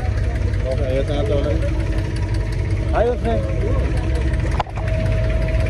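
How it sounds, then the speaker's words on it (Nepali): A boat engine in Dubai drones steadily and loudly at close range while the boat shakes, with people talking over it and a brief knock near the end. "यस्तो मसिन पो हुँदो रहेछ त्यो डुङ्गा चाहिँ खतरनाक हल्लिरहेछ"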